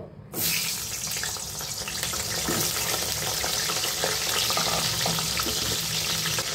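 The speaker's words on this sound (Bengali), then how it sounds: "এবার ভেজে নেব পটলগুলো।" Steady, dense sizzling of pointed gourd frying in hot oil, starting abruptly and continuing loud and unbroken throughout.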